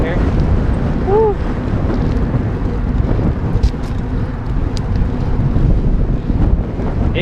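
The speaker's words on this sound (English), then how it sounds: "It's quite windy right now." Strong wind roars across the microphone of a cyclist riding on icy roads, a loud, constant buffeting rumble with a brief faint whistle near the start.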